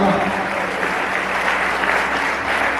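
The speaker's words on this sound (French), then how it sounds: "Merci, applaudissez-vous." Graduates at a French-language graduation ceremony clap for themselves, producing sustained, loud, dense applause throughout, with a voice faintly audible within the clapping.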